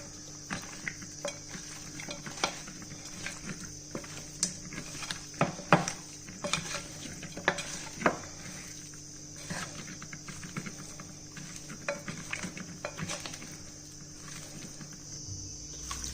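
A chicken curry marinade with green chilies is mixed by hand in a bowl, giving scattered light clinks and scrapes of utensil against the dish over a quiet background.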